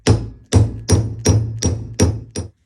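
A ball peen hammer strikes repeatedly to knock a stuck head loose, seven loud, close, evenly spaced metallic blows, each ringing briefly before the next.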